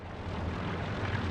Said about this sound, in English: Recon plane.